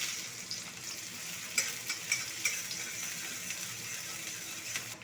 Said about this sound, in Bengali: তেলটা গরম হয়ে গেছে দিয়ে দেবো শুকনো লঙ্কা ফোড়ন শুকনো পেঁয়াজ দিয়ে দেবো